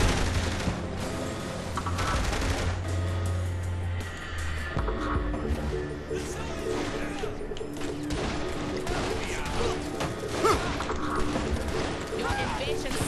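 Gunfire in Saints Row: The Third, bursts of shots amid game effects, engine noise and background music, dense and continuous, with voices speaking over it.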